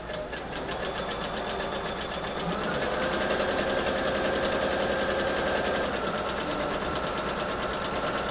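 A sewing machine stitches two pinned layers of fabric for a stocking in a steady, continuous mechanical whir that grows slightly louder partway through, close up and with no talking.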